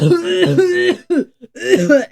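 A voice imitates a woman coughing, producing a drawn-out, throaty hacking fit followed by short choked coughs, close and loud.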